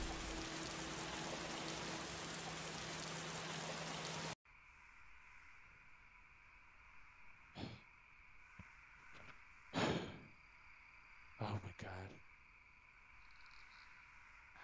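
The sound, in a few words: rain falling in Roblox video game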